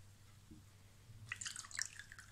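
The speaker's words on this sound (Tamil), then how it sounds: "அப்புறம் மீதிக்கு தண்ணி ஊற்றிக்கோங்க." Water trickles and drips into palmyra fruit (ice apple) sarbath, a faint, quiet splashing that starts after a near-silent pause and lasts under a second, with no voices.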